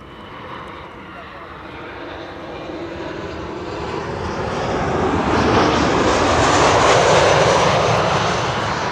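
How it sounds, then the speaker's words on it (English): A KLM Boeing 737-800 airliner arriving from Bergen roars closer with rising jet engine noise, swelling to a loud, broad rush that peaks near the end as it passes overhead. "This is KLM flight 1164, arriving from Bergen, 737-800."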